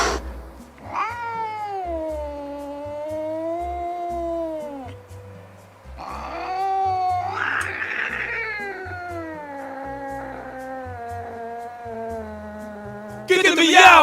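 A cat caterwauls in long, wavering, drawn-out yowls, loud and close, rising and falling in pitch with brief pauses between cries.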